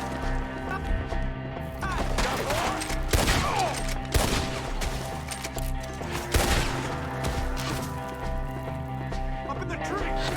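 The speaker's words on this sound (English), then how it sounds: "Shoot the ones up there first!" Gunfire in Red Dead Redemption 2 cracks out in loud, irregular volleys of shots amid a shootout, with horses and scuffling in the background and shouted voices over the action.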